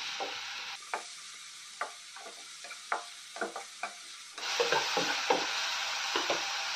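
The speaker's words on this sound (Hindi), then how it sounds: "मशरूम डाल के 2-3 मिनट के लिए तेज आंच पे हम इसको सौते कर लेंगे।" Mushrooms sauté in oil and butter over high heat, with a steady sizzle and regular scraping stirs; the frying grows noticeably louder and brighter partway through.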